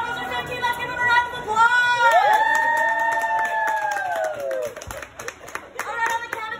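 A restaurant crowd claps and cheers under loud overlapping voices and a whooping shout, the applause spread steadily through the room.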